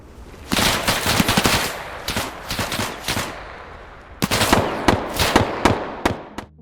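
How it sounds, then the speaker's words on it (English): Bursts of rapid video game gunfire crackle in two volleys from two directions, with a short lull between them, sharp and fairly close. "there are clearly rangers shooting at me from two different directions"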